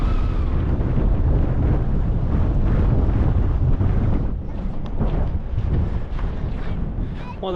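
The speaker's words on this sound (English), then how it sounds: "it was really windy at the top" Strong, steady wind roars across a bare winter hilltop in the Peak District, buffeting the microphone continuously with a dense, rumbling blast that barely lets up.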